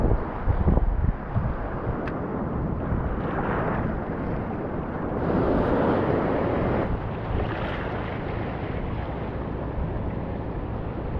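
Strong current rushing through a fishing spot, a loud steady broadband roar of churning water close by with buffeting wind, no voices.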